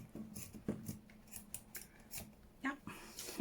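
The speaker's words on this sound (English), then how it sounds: "I can get my scissors through it." Scissors snip through Amazon packaging for a junk journal cover in a run of short, quiet crisp cuts with brief pauses, close and faint, with a bit of talk now and then.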